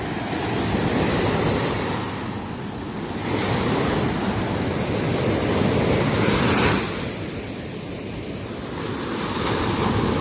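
Ocean waves surge and wash in continuously, with swells rising and falling amid wind noise.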